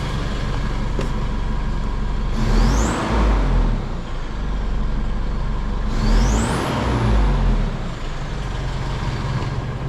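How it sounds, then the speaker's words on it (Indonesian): An Isuzu MU-X with a custom downpipe and front pipe is revved twice over its idle, each blip rising into a loud turbo whistle that climbs and then fades back to the steady rumble. "Jadi suara turbonya lebih kencang setelah ganti downpipe dan front pipe."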